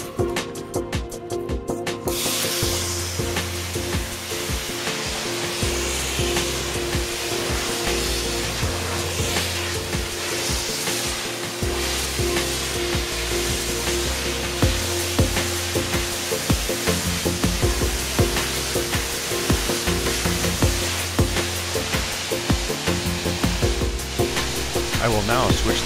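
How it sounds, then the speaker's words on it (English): A Hydro-Chem Systems two-step touchless truck wash machine sprays soap and rinse water, making a loud, steady hiss of pressurized spray over a droning pump tone that runs continuously throughout. "I can actually turn on the machine, switch it from our number one soap to our number two soap, back to rinse"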